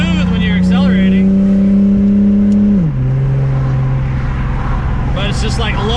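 A Lexus IS300 with a turbocharged 2JZ engine cruising at low load with a fluttering fault. Its loud, close, steady drone drops in pitch about halfway through and then holds at the lower note.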